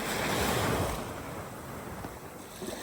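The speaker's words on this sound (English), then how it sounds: "Right here you can see the waves have been washing up along the edge of the snow" Waves wash up along a snow-covered shore after a January snowstorm, a louder surge of surf first that eases into a softer, steady wash with wind noise and no talking.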